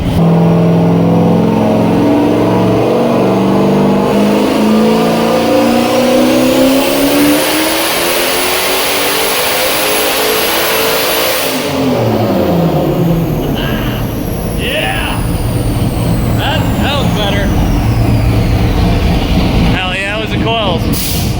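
A Mazda Miata running 30 pounds of boost and a 200 shot of nitrous revs hard on a dyno: a loud engine roar climbs steadily in pitch for about twelve seconds, then cuts sharply and settles into a rougher, lower run.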